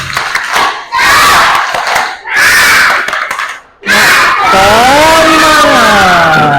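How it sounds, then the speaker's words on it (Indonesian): Classroom of students doing a spirit clap chant, loud bursts of rhythmic clapping and shouting in three sections separated by short pauses, ending in a long sustained group yell. "Tepuk semangat."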